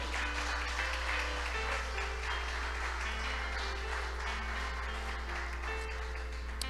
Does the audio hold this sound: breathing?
no